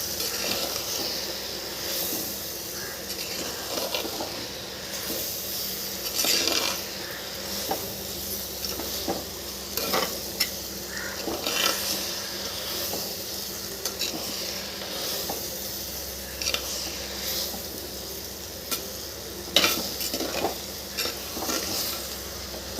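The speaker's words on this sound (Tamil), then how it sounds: "சும்மா ஜென்டலாக மைல்டாக அப்படியே கிளறி கொடுப்பேன்" Onion, tomato and greens gently stirred in a hot clay pot, a soft, steady sizzle and hiss under occasional light scraping strokes, close and alone without speech.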